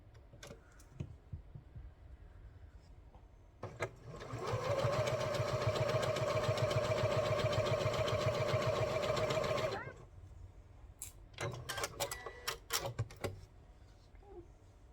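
A sewing machine stitches quilt strips along the diagonal, running in one steady, even whir for about five seconds in the middle, with quiet handling noises and a few light clicks before and after.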